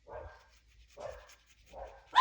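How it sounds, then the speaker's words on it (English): A dog barks three times in short bursts, evenly spaced, fairly close, with quiet gaps between barks. "She's like, but Ruby's barking."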